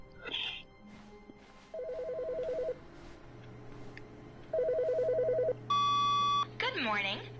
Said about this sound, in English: looks like the phone rang.